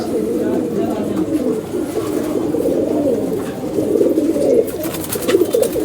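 Madrasi pigeons coo in a loft, their soft, throaty murmurs overlapping in a steady near chorus, with a voice speaking among them and light rustling toward the end.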